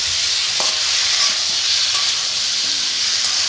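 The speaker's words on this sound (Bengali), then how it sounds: "আলুর সাথে মশলাগুলো দিয়ে ডাঁটার সাথে ভালো করে কষে নিচ্ছে" Potatoes and drumsticks frying with spices in a pan, a loud continuous close sizzle with occasional spoon scrapes as the mixture is stirred, no voices.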